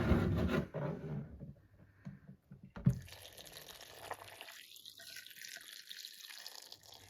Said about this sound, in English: I am measuring the water.